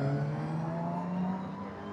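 A CF Moto motorcycle engine revs at a media test ride, giving a steady, close, loud droning hum that holds a constant pitch for two seconds and then eases slightly.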